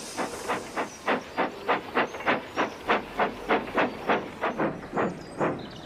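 A cartoon steam tram engine chuffs in an even rhythm, each hissing puff of steam clear and close, about three beats a second, with no talking.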